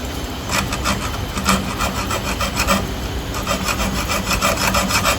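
A handsaw rasps back and forth on a piece of wood, cutting a starting groove in steady short strokes with a gritty scraping texture. It plays alone at moderate loudness, with no talking.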